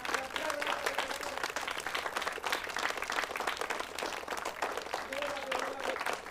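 Children clap together in a sustained round of applause, a dense, even patter of many hands with voices mixed in underneath.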